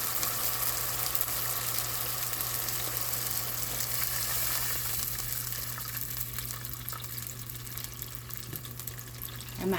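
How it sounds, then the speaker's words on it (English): Boiling water poured into a hot pan of pineapple kesari hisses and sizzles steadily at close range, the bubbling softening slightly toward the end, with no talking. "I'm adding the boiling water so we can cook a little bit with that."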